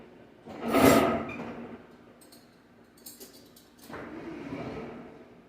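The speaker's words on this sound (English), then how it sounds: "That drawer was a little squeaky and ugly, right?" A squeaky kitchen drawer slides open with a scraping rush, clicks and rattles, then slides shut with a softer drawn-out rub, close by.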